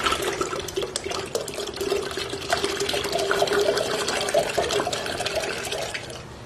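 Water, about 1.5 liters, pours into a container for a chlorella green-water culture, a steady splashing rush with a rising gurgling fill, close and continuous with no talking.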